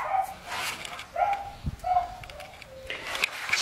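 Several dogs bark and yip far off in the neighbourhood, scattered barks coming from different directions with quiet gaps between them.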